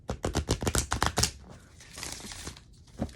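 Tarot cards shuffled by hand in a rapid burst of riffling slaps, close and loud, then a softer stretch of sliding and shuffling before one last tap.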